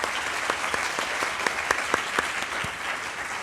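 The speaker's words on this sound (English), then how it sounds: "One more round of applause." Audience applause at a Women in STEM panel event in Roanoke, Virginia, sustained loud clapping from a crowd with a few sharp individual claps standing out.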